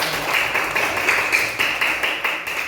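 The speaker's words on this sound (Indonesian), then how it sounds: "Tepuk tangan buat semuanya." Classroom group applause from students after a teacher's call for a round of clapping, a steady dense patter of many hands for nearly three seconds with slight pulsing.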